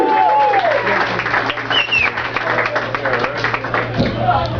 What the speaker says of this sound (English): That clapping reminds me, you guys notice that this is a golf clap?